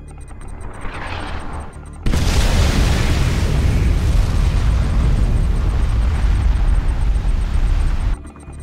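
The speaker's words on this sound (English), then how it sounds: "Select target. Nuclear missile launched." A nuclear missile strike in the strategy game Command & Conquer 3: Tiberium Wars bursts into a huge, sustained roaring explosion with deep rumble, preceded by a rising whoosh and lasting several seconds before cutting off.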